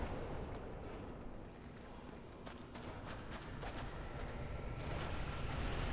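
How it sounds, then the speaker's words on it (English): An exploding enemy in the video game Dark Souls produces a dense, rumbling blast with crackling bursts over steady game noise, followed by a louder surge near the end. "Oh, he's exploding."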